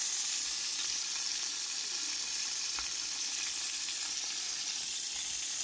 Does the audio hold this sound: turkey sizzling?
yes